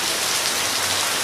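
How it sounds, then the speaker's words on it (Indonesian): Rain pours steadily onto surfaces in a dense, loud hiss of raindrops that stays constant and uninterrupted, with no voices. "Hujan kieu."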